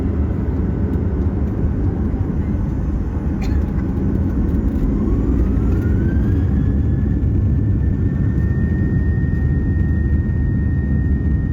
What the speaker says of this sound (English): the engines were fired up, and we made our way out to the runway for takeoff